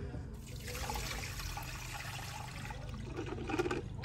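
Dirty water poured out of a Vax Spot Wash carpet cleaner's container, a steady close splashing and trickling pour that runs on without a break.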